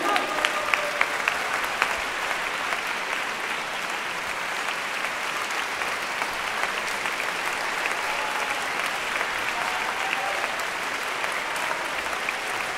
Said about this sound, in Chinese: 再次热烈掌声